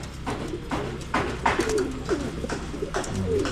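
Pigeons cooing close by in a breeding loft, several soft repeated coos over low background rustle, no talking.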